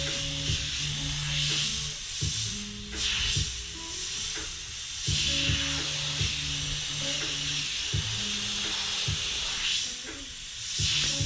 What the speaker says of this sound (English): I need to start with a spray can.